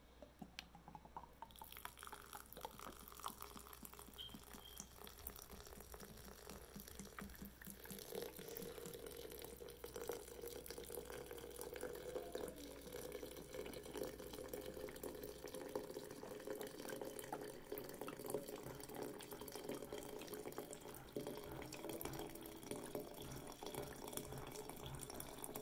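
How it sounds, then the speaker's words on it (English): Vodka poured steadily into a container until it measures a pint, a faint continuous trickle of liquid lasting the whole stretch with no speech. "Okay, that is 16 ounces of vodka."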